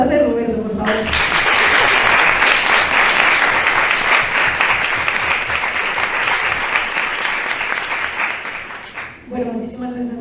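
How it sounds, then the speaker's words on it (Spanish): An audience at a book presentation breaks into loud, sustained applause for the author Roberto, dense clapping filling the room for about eight seconds before fading out, with a voice speaking briefly just before and after. "Y quiero pediros un aplauso para el protagonista de esta tarde, Roberto, por favor."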